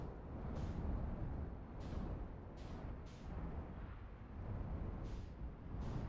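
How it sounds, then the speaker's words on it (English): The gravity cannon on Ember Twin in Outer Wilds produces a faint, distant, continuous rumble, with hissing swells surging roughly every second or so. "that's gotta be the cannon on Ember Twin. The gravity cannon."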